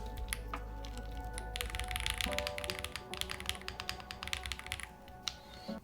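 Rapid, uneven keystrokes clack close by on the alpha keys of an IQUINIX Super 1+1 TKL mechanical keyboard, with bursts of typing and brief pauses, and no talking.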